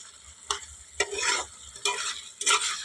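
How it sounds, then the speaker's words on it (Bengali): A spoon stirs curry with jackfruit seeds, hilsa fish head, snake gourd and potato in a pan over a low gas flame, four distinct scraping strokes over a soft background sizzle. "দিয়ে একটু সামান্য নাড়িয়ে নিচ্ছি"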